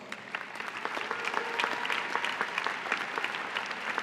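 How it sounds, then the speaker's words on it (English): Steady, full applause from an audience at a university graduation and diploma ceremony, a dense wash of clapping hands continuing throughout with no one speaking. "Aishwarya Raghunathan, Vikram Juneja, Please join me in a round of applause."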